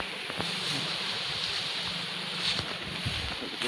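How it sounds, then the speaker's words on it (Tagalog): Amihan, the northeast monsoon wind, blowing at sea: a steady, loud broadband rush of wind buffeting the microphone, with faint water movement beneath and no pauses. "Ito yung amihan."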